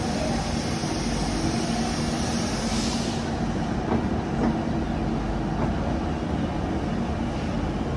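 Kanpur Shatabdi Express running just after leaving Kanpur Central, a loud steady rumble and roar from inside the moving train with faint rhythmic rail clacks, no talk.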